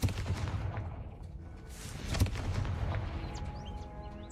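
A Confringo fire spell blasting in Hogwarts Legacy, a rough crackling burst with sharp impacts, one loud hit near the middle, followed by faint bird chirps in the game ambience.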